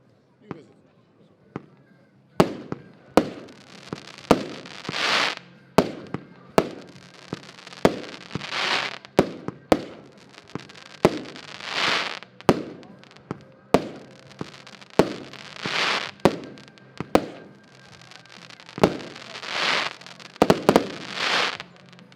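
Diamond-brand consumer fireworks firing in a rapid series of sharp bangs and crackling bursts, loud and close, with bright hissing trails between shots over roughly twenty seconds.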